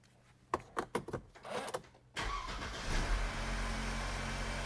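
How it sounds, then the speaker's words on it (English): A Mercedes-Benz C200 is started after a few clicks and clunks, the engine catching at once and settling into a steady, smooth idle heard close up, with no talking. "So let's start the car."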